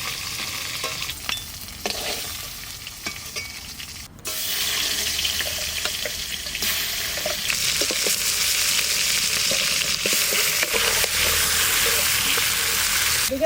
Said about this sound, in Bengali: এদিকে মাছ ভাজা হতে হতে আমার মশলাও বাটা হয়ে যাবে।